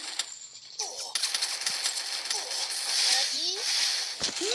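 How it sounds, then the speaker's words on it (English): Rapid gunfire bursts in the mobile shooter Free Fire, crackling in quick, uneven volleys through the whole stretch while a player talks over the shots. "Oh no, they're shooting."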